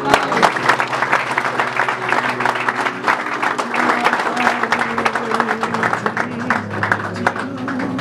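Church congregation applauding during a healing service, dense sustained clapping from many hands, loud and close, with a low musical drone underneath.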